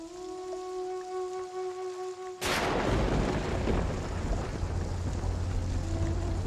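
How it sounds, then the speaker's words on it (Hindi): Heavy rain pours down at night. A loud, steady downpour starts abruptly after a quiet passage of soft music and continues close and unbroken to the end. "कितनी बारिश हो रही है?"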